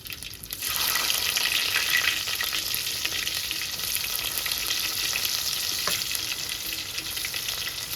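Chopped onion frying in hot oil with cumin seeds, a dense, loud, continuous sizzle heard up close, with occasional stirring clicks and no one talking.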